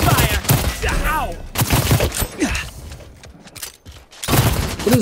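Gunfire in the video game Realm Royale, rapid bursts of shots mixed with game effects and a loud, chaotic background, with people talking over it.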